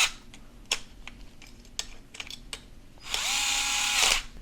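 An electric screwdriver drives fasteners into a license plate bracket for a Ford Maverick, giving a steady close whir of about a second after several small clicks and taps of handling.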